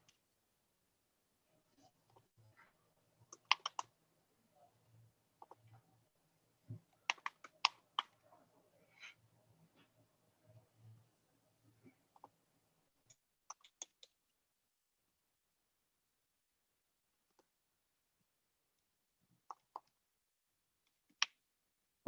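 Scattered bursts of typing on a computer keyboard, quiet clicks coming in irregular clusters with long silent gaps, fainter and sparser toward the end, in a hushed room.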